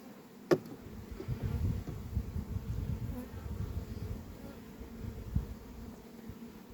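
Soft, continuous buzzing of many honeybees close by at a hive, with a brief click near the start and no talking.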